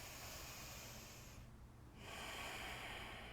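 Slow, audible breaths drawn in and out through the nose during a seated yoga staff pose, close and soft, with a short pause between the exhale and the next inhale.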